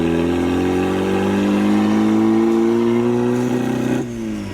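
A turbocharged Mazda Miata engine revs hard and close, pitch climbing steadily before abruptly cutting off at fuel cut and dropping back, with a droning, buzzy exhaust tone.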